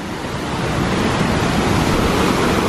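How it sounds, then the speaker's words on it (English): Rushing stream water in a state park on Lake Superior's North Shore makes a dense, steady broadband roar, close and unbroken, with no voices over it. "So the water's flowing."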